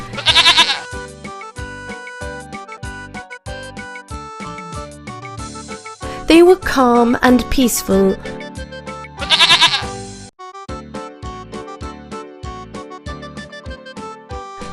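Goats bleat over light, bouncy music: a short bleat at the start, a longer wavering one in the middle, and another near the end, with narration.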